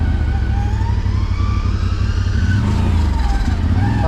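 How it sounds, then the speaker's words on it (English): Engine braking on a 2023 CFORCE Overland ATV rolling downhill: a loud, continuous, droning engine whine with shifting pitch, heavy low rumble and wind noise throughout. "Like that noise right there, that engine brake's what that was."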